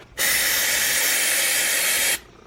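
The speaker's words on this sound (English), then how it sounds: "then we'll spray it with some brake clean" One long, loud hiss of aerosol brake cleaner sprayed on a 2003+ Saab 9-3 2.0T vacuum pump, lasting about two seconds, starting and stopping abruptly, up close with no voices.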